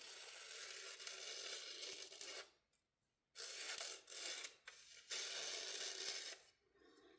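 A sharp pocket knife slices through thin phone book paper in several long, crisp rasping strokes, close and loud, separated by brief silent pauses.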